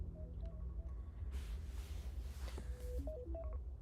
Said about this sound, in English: That was my alarm to turn off the cat misters.